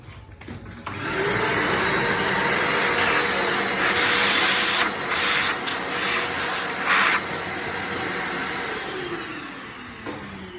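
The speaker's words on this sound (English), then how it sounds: "Before we do that, I'm just going to quickly vacuum around there." A vacuum cleaner roars steadily and close for about ten seconds while cleaning around a Mahlkonig E80 coffee grinder, with brief shifts in pitch as the nozzle moves.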